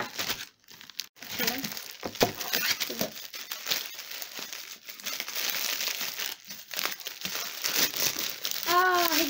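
Crinkling gift wrap on a package being opened during an unboxing, giving intermittent close rustling and crackling bursts across the stretch, with a voice briefly heard.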